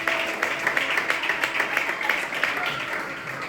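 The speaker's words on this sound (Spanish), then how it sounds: "Damos un aplauso a la palabra del Señor" Church congregation applauding, a moderate, steady patter of many hands clapping in a reverberant room, continuous for a few seconds.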